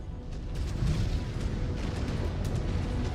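A destroyed mech explodes in MechWarrior 5: Clans, a dense rumbling blast with crackling debris that holds loud and steady for a few seconds amid ongoing battle noise.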